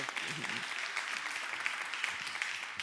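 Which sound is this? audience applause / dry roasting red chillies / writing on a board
audience applause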